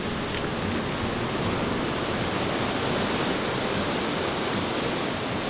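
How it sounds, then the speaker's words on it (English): A tall waterfall in Sweden, heard on a cloudy-day hike as a constant, loud, broadband rush of falling water with no breaks and no voices over it. "Eventually we arrived at one of Sweden's tallest waterfalls."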